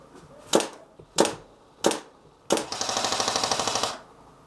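Airsoft guns firing outdoors during a game: three sharp single shots about a second apart, then a fast rattling burst of full-auto fire lasting over a second, close and loud.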